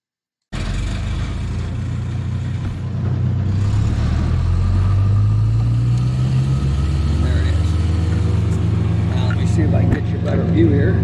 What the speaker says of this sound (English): I have landscapers in doing work around my property, and they are running a chipper behind me.